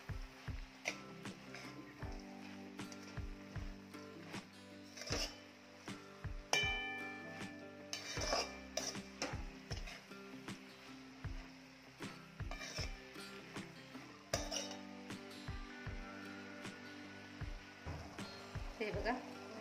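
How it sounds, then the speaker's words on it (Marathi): Shepu (dill) and pumpkin vegetable mix stirred in a pan, with repeated light scraping clinks of a spoon against the metal in an uneven rhythm, close and clear, no talking. "मीठ टाकून पुन्हा एकदा छान हे मिक्स करून घ्यायचं आहे"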